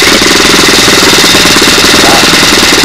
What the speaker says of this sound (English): Boy, that's idling nice right now.